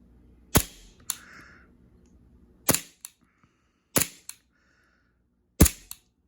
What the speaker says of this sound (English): when I press this trigger, it'll recoil to the point where it disrupts that sight picture